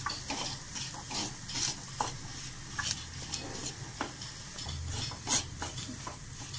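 Bitter gourd sautéing in a pan for a curry with roasted coconut, steady close sizzle and frying hiss broken by repeated stirring scrapes and clinks, no talk.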